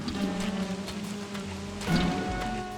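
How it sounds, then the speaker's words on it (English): Steady rain falling in Don't Starve Together, a continuous hiss of drops with a low rumble swelling briefly partway through, no voices. "I'm also scared of lightning now because it's raining."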